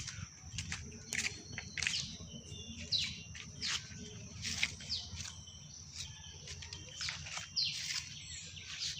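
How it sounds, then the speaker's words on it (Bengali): A small bird in a mango orchard gives repeated sharp chirps and tweets, fairly close. Faint insect buzz and a low rustle sit underneath, and no one talks. "এত সুন্দর পাখি"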